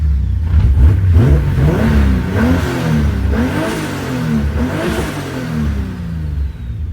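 A turbocharged BMW E36 M3 engine revs up and down in a few rising and falling sweeps with a hint of boost, close and loud, with no talking.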